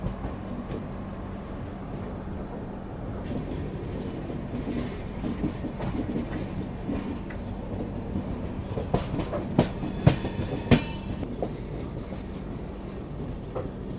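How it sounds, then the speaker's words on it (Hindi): The Telangana Express, an Indian passenger train, rounding the Kazipet curve, heard from inside the coach as a steady rumble with clickety-clack wheel beats and a few sharp metallic clanks and squeals near the end. "वैसे फिलहाल अपनी ट्रेन अभी काजीपेट वाले कर्व पे है।"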